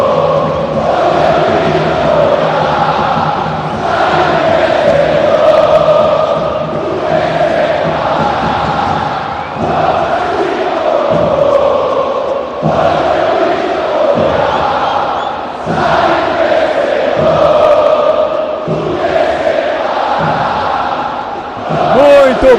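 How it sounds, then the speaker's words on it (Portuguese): Palmeiras supporters chant in rhythmic, repeating waves of massed voices filling Allianz Parque stadium during a Libertadores match against Boca Juniors, loud and sustained for over twenty seconds with pulsing phrases. "Ó a torcida cantando."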